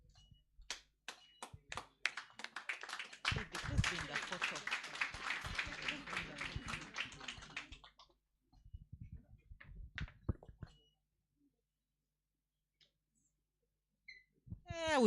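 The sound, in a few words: audience applauding at a moot court competition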